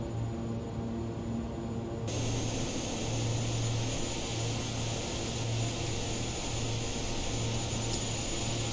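Steady propeller drone and cabin hum of a Black Square analog King Air turboprop in Microsoft Flight Simulator 2020, a continuous even engine tone with a low pulsing throb and no talking.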